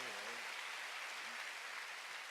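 A church congregation applauds together in a steady wash of clapping that stays even throughout, with a voice briefly audible at the start.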